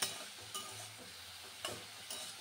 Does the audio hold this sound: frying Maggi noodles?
yes